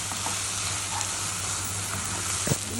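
Dried kachki fish frying in a pan, a steady loud sizzle with the scrape of stirring and a sharper knock near the end.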